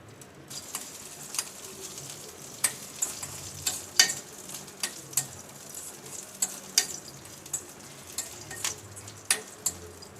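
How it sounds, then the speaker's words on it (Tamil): Neem flowers frying in a pan until reddish for a homemade mango pachadi: a gentle steady sizzle punctuated by regular sharp taps and scrapes of a stirring spoon, close by, with no talking. "சேர்த்துட்டு கொஞ்சம் செவக்க வர்ற வரைக்கும் நம்ம வறுத்துக்கணும்."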